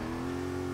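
A car engine in Forza 6 holds a steady, droning rev near 5,000 rpm at the launch, a short, even mid-pitched tone with no talk.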